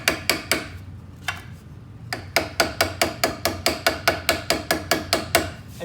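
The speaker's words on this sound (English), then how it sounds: "So I'm going to use this squaring stake" Bent-over metal box tabs being hammered on a squaring stake: a few sharp ringing metal blows, a short pause, then a rapid steady run of about fifteen close, loud hammer strikes.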